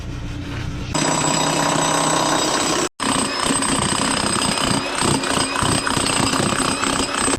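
A demolition hammer pounds concrete during a water-leak repair, a loud, close, continuous rattling hammering that starts after a second, breaks off briefly near three seconds, then resumes unbroken to the end.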